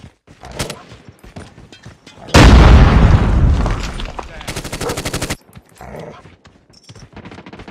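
A loud grenade explosion in Call of Duty Mobile, followed by a long burst of rapid automatic gunfire and then scattered shots, with brief voice callouts before and after.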